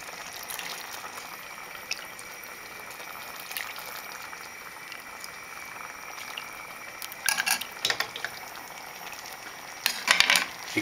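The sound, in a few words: chicken and couscous simmering in stock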